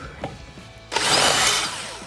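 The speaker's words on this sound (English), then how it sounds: "So I just took a little drill bit that was just big enough" A small drill bit bores out a bolt hole to fit a Bilstein B8 5100 steering damper on a Jeep Wrangler JL. After a brief pause, a loud, close, continuous whirring grind starts and holds steady.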